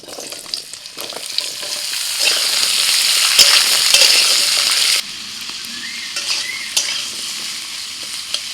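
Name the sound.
onion and potato frying in oil in a wok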